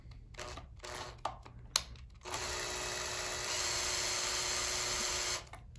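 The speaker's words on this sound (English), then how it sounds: "Now I'm going to loosen these strings." Strings are loosened on an Ibanez RG Prestige electric guitar with a floating bridge. Short mechanical buzzing bursts lead into a sustained whirring that runs for about three seconds and then stops, close to the mic, with no talk.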